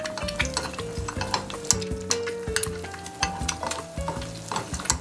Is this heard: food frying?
yes